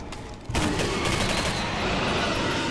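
Video-game gunfire rips out in a sudden, loud, continuous burst as a player shoots at a monster in Singularity, sustained rapid shots filling the rest of the moment.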